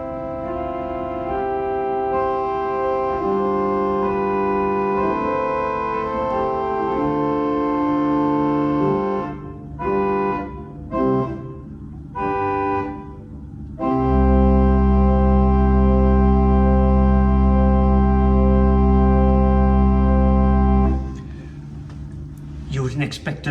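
An 8-foot stop on the bottom manual of a tiny three-manual pipe organ plays sustained chords and a moving line, with a few brief gaps before a loud, full held chord with deep bass.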